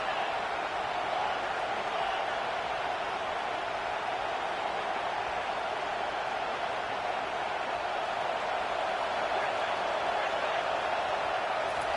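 A dense, steady roar from a football stadium crowd fills the whole stretch, loud and unbroken as fans try to rattle the offense, with no single voice standing out.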